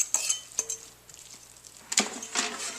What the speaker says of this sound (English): we're going to toss our cauliflower in it